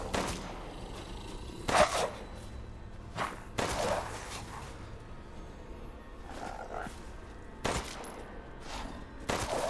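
Gunfire in the video game Resident Evil 8: several sharp, loud bursts at irregular intervals over a noisy game soundscape, with no talking.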